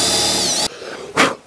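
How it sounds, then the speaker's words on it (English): Power drill boring a hole for a wire during a luxury van build: a loud, steady high whine that cuts off abruptly, followed by a short scraping rustle. "Now I'm just taking a drill bit to go in here so that I could fit a wire"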